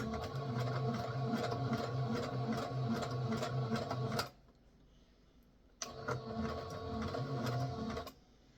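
A sewing machine stitches fabric with stretched elastic in two loud, rapid mechanical bursts, separated by a short quiet pause, with the second run starting and then stopping.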